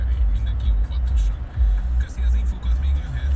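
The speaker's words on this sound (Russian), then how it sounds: "Здесь серьезные пробки." Cars crawl through heavy traffic in central Budapest, low engine rumble and passing vehicles heard from inside a moving car, steady and fairly loud, with a little talking mixed in.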